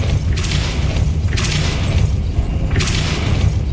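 A Depulso force spell cast in Hogwarts Legacy, with repeated booming blasts about once per second over a dense, heavy rumble of game sound, loud and close.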